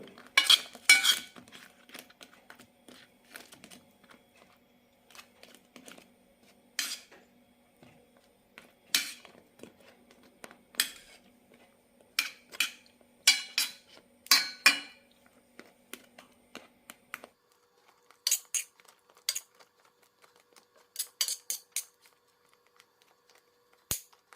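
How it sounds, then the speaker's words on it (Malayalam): Milk buns stirred in sugar syrup in a pan, with scattered clinks and scrapes of a utensil against the metal coming in irregular bursts, fairly close and quiet with pauses between. "പഞ്ചസാര പാനിയിലേക്ക് ഇട്ട ശേഷം ഒരു മിനിറ്റ് നന്നായി ഇളക്കി കൊടുക്കണം"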